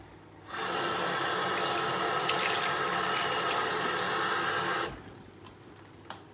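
Tap water runs steadily into a sink for about four seconds, a full, hissing splash that starts and stops abruptly against a quiet room.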